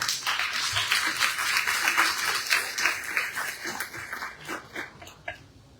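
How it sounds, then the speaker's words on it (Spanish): Audience applause welcoming a speaker at a technical meeting on public archives, dense clapping that gradually thins and fades toward the end. "Vamos a recibirlo con un fuerte aplauso"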